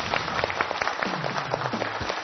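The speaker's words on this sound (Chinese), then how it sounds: "掌声欢迎笑叔和朱毅。" Television studio audience clapping to welcome guests on a health program, a busy patter of hands with a low voice-like hum running under part of it.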